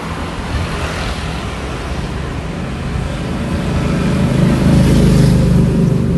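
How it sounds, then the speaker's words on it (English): Steady street traffic on a rainy day in Sam Kong, Phuket, Thailand, with cars and motorbikes passing close by, rising into a louder engine rumble toward the end. "Hope the traffic's not too noisy as it's kind of distracting me a bit."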